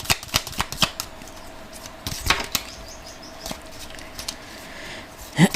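Crisp riffling flutters and soft slaps of a deck of lovers' oracle cards being shuffled and a card drawn, in quick irregular bursts close by, with no talking.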